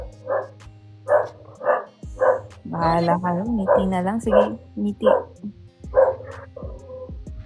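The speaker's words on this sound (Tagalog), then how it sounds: "Kumanta na yung aso." A dog barks in a string of short, evenly spaced yaps, close and fairly loud, while people chat and laugh over it.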